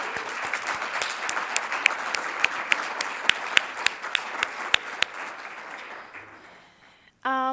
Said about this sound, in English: Round of applause for Zoe.